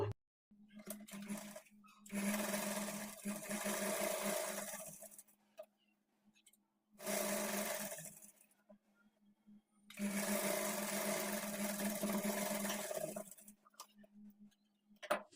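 A sewing machine stitches a half-inch folded waistband on a trouser, running in three long bursts with short pauses between, loud and close with a steady whir.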